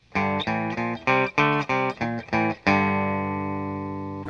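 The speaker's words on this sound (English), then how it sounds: "So if I was to have a single note run that went something like this, I could power chord it." Electric guitar power chords struck one after another in a quick rhythmic run standing in for a single-note line, about eight short choppy hits ending on a long ringing chord that slowly fades, clean and close.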